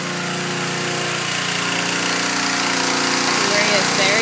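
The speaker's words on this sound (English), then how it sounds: "I hear the pressure washer going." A pressure washer runs steadily nearby, giving a loud, continuous motorized drone that holds even throughout.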